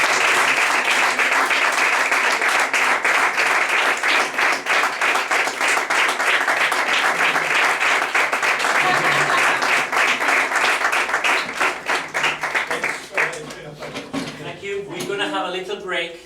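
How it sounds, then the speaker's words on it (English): Applause from the audience after a flamenco lecture, a sustained dense clatter of many clapping hands that fades toward the end, giving way to chair and room noises and faint voices. "I think you deserve a big round of applause."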